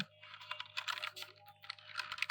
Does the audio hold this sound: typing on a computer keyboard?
yes